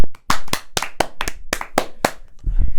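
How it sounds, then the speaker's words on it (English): Two podcast hosts clapping their hands indoors, a close, loud run of sharp claps in an uneven rhythm, about nine in under three seconds, then a brief rustle. "I want to give a round of applause before we start to Gary O'Neill."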